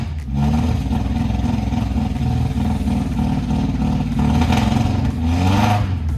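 A Nissan Sunny pickup truck engine runs steadily close by, a low rumbling idle with a slight uneven throb, continuing throughout without any voices.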